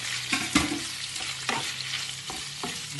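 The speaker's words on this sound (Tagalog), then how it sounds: "Gisan nyo lang yan. Gisan lang yan." Aromatics sauté in hot cooking oil, a steady sizzle broken by several scraping stirs of a utensil in the pan, close and moderately loud.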